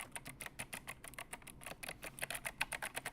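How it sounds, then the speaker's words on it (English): Fast typing on a mechanical keyboard styled after the Nintendo Entertainment System, with quick clacky keystrokes in a steady, close, crisp patter and no voices. "Now, this keyboard is obviously designed after the Nintendo Entertainment System."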